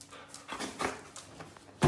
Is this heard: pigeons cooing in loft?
no